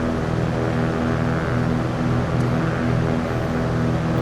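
Steady propeller airplane drone on a landing approach with full flaps at 70 knots in Microsoft Flight Simulator 2024, a loud continuous engine hum with tonal harmonics running unbroken throughout, with no voices.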